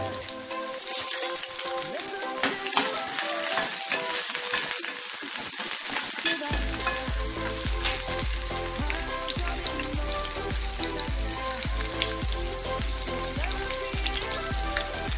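Chopped okra sizzles in a hot pan, a steady crackling hiss like rain, with low rhythmic thumps from stirring or the utensil appearing partway through; no voices.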